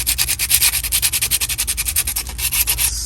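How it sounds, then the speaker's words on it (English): Fine sandpaper works over a plastic action-figure torso in rapid back-and-forth strokes, each one a close, gritty rasp in a steady, even rhythm with no talking. "Then you take it down with that thinner sandpaper"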